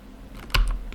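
Keys typed on a computer keyboard while entering command-line commands on a network switch, a short cluster of close, crisp taps with one louder keystroke in the middle.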